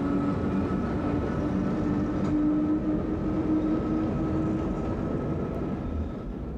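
Benelux passenger train with Dutch coaching stock hauled by a Belgian locomotive, a steady low rumble of running wheels on rails with a faint tonal hum, constant and moderately distant.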